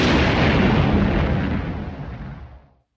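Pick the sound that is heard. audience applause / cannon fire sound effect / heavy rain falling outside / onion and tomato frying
cannon fire sound effect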